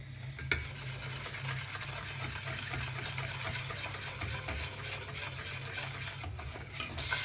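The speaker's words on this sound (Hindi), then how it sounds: "आप विस्कर से इसको ऐसे मिक्स करते जाइए" A whisk stirs flour into chocolate sauce in a pan over medium heat, making a steady, busy scraping and swishing that goes on throughout without speech.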